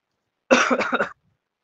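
A short, close burst of coughing, a few rough hacks run together in about half a second, then silence.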